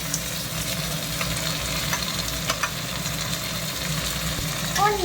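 Tomatoes frying in a pan while noodles are being cooked, a steady close sizzle and crackle running throughout, with brief clicks and stirring knocks and a faint engine-like hum beneath.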